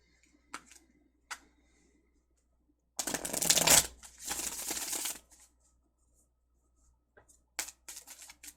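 Tarot cards being shuffled, a few light taps, then a dense riffling burst lasting about two seconds, followed by softer card handling, close up in a quiet room.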